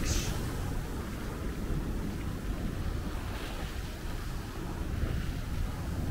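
Surf washing against the rocky shore at Rooi-Els, a steady broad roar with soft swells of breaking water and wind buffeting the microphone throughout, no voices.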